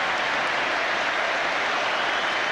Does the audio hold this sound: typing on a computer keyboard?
no